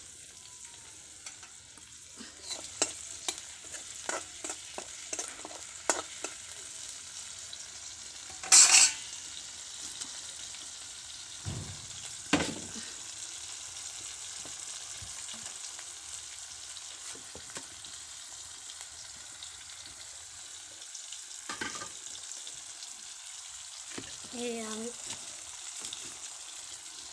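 Onion and garlic frying until reddish in a pan over a traditional clay stove for a leafy-greens curry: a steady soft sizzle with intermittent spoon scrapes and clinks, and a person speaking briefly.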